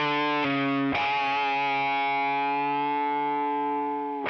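Sustained electric guitar note played with a distortion effect, bent upward and back down as a wash of reverb swells and rings out for several seconds, alone without talk.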